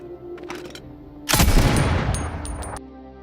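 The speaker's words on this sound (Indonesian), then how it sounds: "Kini para pejuang kembali berhadapan dengan si sniper yang melepaskan tembakan" Gunfire from a sniper in a war film set amid a city's defence against ISIS fighters: a sudden loud blast with a rumbling tail around mid-clip, then a few sharp crackling reports, over a quieter low background.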